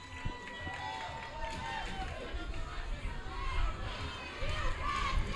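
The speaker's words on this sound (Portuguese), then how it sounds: "Vibra muito aqui a torcida." A football crowd celebrates Newcastle's win at a Campeonato Chapadinhense 2023 match, with steady distant cheering and chatter, scattered shouts rising and falling, and a commentator talking over it.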